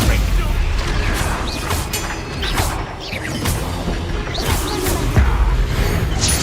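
Bombarda and Confringo spell explosions in Hogwarts Legacy, a run of booming blasts and crashing impacts in quick succession over a dense, continuous roar of combat.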